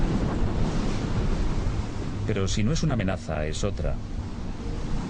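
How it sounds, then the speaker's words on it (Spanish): Wind and heavy, choppy sea at open water aboard the container ship OOCL Atlanta, a steady broad roar of wave wash and gusting wind running throughout, with a voice speaking over it midway. "El viento se vuelve más fresco, el mar se encrespa."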